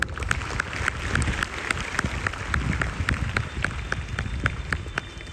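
An audience of schoolchildren at a school celebration of Marathwada Liberation Day claps for a girls' performance, making dense, steady applause with a quick, regular clapping pulse throughout.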